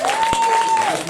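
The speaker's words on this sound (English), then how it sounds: "let's have a round of applause for that" An audience gives a round of applause at a community show, a short, bright burst of clapping with a voice and a sustained tone layered over it.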